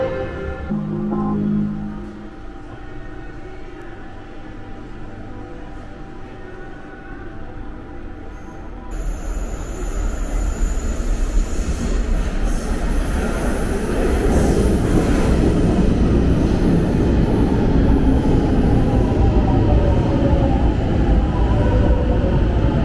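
Milan metro Line 1 train between Cordusio and Pasteur stations: steady loud rumble and rail roar that builds after the first seconds and holds throughout, with faint high squeal and clatter, no talk.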